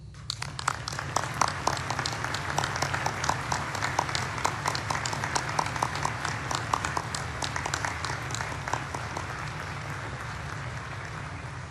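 Sustained applause from a large audience at a Veterans Day service at Arlington National Cemetery, dense steady clapping held for the whole stretch, moderately distant, with no talk.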